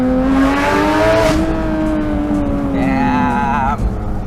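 A modified Porsche 991.2 GT3 RS with a carbon fiber Venturi intake accelerates hard, its loud engine note climbing in pitch through the rev range, dropping at a gear change and then rising again, heard from inside the car.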